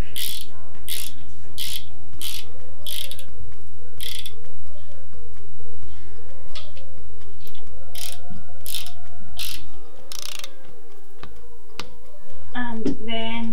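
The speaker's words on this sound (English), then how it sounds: "We have our torque wrench." Torque wrench ratcheting on the lower leg bolts of a FOX suspension fork, repeated sharp clicking bursts in a steady rhythm, close and loud over a constant hum, with a brief pause near the end.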